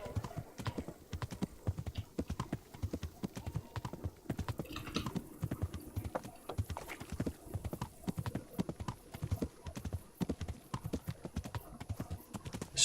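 Horse hooves clip-clop in a steady trotting rhythm as a rider travels in Kingdom Come Deliverance, close and continuous throughout, with faint extra clicks mixed in.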